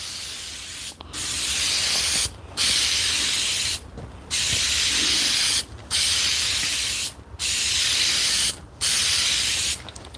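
A spray can lays finish coats on cabinet parts in a woodworking shop. Loud hissing bursts of about a second each repeat six or seven times, separated by short quiet gaps.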